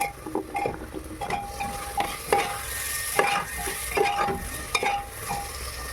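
Potatoes, carrots, capsicum and peas frying in a pan for pav bhaji while a utensil stirs and scrapes in steady repeated strokes over a constant close sizzle.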